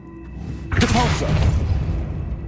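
A Depulso spell cast in the Hogwarts Legacy video game, a single loud booming burst with a sharp crack that swells suddenly and then tails off into a rumbling decay.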